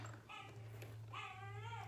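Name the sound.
puppy crying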